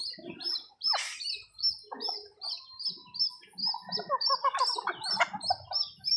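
Small native bantam chickens chirp and peep in short repeated bursts, fairly close and clear against a quiet background, with a few lower calls mixed in.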